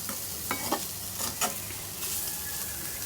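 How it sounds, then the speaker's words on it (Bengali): Bitter gourd dry-frying in a little oil in a pan gives a steady soft sizzle, with a few quick scraping stirs near the start, close and with no talk. "করলা ভাজি করছি, এই যে তেল কমে, শুকনা শুকনা ভাজি।"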